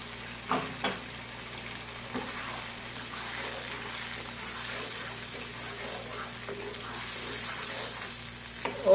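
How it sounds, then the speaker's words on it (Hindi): Ground tomato paste fries in a pan for ginger chicken with a soft, steady sizzle and a few spoon scrapes as it is stirred, close by and fairly quiet. "और इसको 4 से 5 मिनट के लिए भूनते रहते हैं।"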